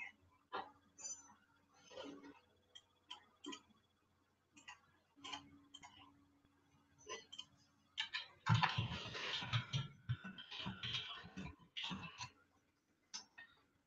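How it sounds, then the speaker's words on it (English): Someone types on a computer keyboard. Scattered clusters of soft clicks give way to a longer, denser run of rapid keystrokes near the end, close and fairly quiet. "clearly I'm not typing in the right box"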